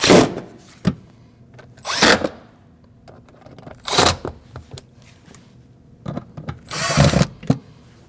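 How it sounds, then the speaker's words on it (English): Bursts of a power driver tightening four Phillips screws on the fuel pump access panel of a 2014-2023 Jeep Cherokee, several short loud whirs spaced a second or two apart, with soft handling clicks between them and no talk. "Phillips screws, tighten those down."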